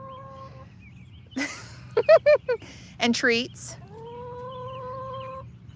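Hens being fed strawberries cluck close by in a short burst of sharp, choppy calls, while someone talks softly before and after.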